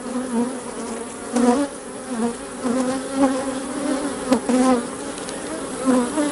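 Honey bees buzzing over open hive frames during a fall split, a dense steady drone close by with individual bees rising and passing near, no talk.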